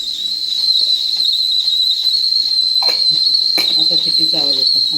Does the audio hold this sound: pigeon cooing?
no